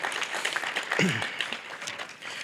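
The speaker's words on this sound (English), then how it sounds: "one more round of applause for our Hall of Fame inductee, Marie Vidania Barda" A banquet audience applauds a Hall of Fame inductee at an athletics end-of-year event, a brief spread of clapping from the room with voices mixed in.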